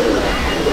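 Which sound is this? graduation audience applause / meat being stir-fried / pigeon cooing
pigeon cooing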